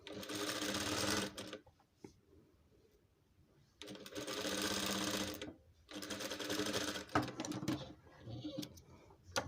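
An electric sewing machine stitches a velvet house dress in three bursts of rapid, close mechanical chatter, separated by brief pauses with light handling sounds.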